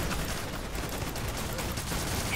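Gunfire in the Killing Floor 2 video game: dense, continuous bursts of shots and noisy combat, fairly faint overall with no clear gaps.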